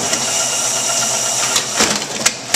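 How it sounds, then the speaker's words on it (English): A Bourg SBM booklet maker with its covers removed folds a set of sheets. The machine gives a steady mechanical whir with a few soft clunks near the end, close up, with no talk. "Here's a set entering folder."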